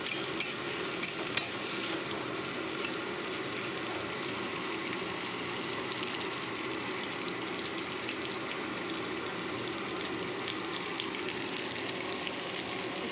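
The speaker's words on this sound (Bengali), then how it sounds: "একটু পেঁয়াজটা একটু লাল লাল করে পেঁয়াজ ভেজে নেব" Onion fries in oil in a pan, a dense, continuous sizzle with a few sharp clicks of a stirring utensil near the start, steady and close throughout.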